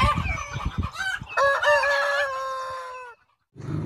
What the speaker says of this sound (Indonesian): Lihat teman-teman. Ternyata ini ayam.